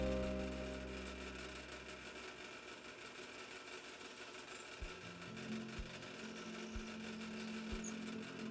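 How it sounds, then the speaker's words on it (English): A drill press hums steadily, then its bit bites into wood for a key rack in several short, evenly spaced bursts; no talking. "Now it's back over to the drill press."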